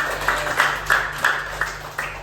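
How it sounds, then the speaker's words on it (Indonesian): A group in a classroom claps in a steady rhythm, about seven evenly spaced claps over a low electrical hum, with no talking. "Ya, tepuk tangan."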